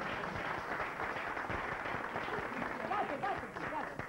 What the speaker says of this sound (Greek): Λάκης Παπαδόπουλος, χειροκρότημα τώρα.